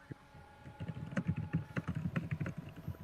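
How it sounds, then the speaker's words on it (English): Keyboard typing coming through a Discord voice chat, a quick irregular patter of key clicks, fairly faint and thin, lasting a few seconds with no talk over it. "Why is Congo typing?"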